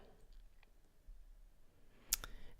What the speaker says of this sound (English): So what you can do is just double click right there.